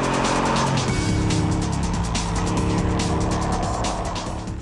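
A Hartge-tuned BMW X5 engine and exhaust roar loudly and steadily as the SUV drives hard nearby on 22-inch wheels, with a dense rumbling growl and some tire noise.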